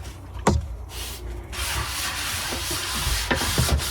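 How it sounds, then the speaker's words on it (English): A sponge scrubs a non-stick pan with short, rasping rubbing strokes, one sharp knock near the start, then a continuous scraping hiss with a few soft clunks, close and moderately loud. "Not needed to scour any of that with the scouring side of this sponge, because I want to keep all the non-stick on there."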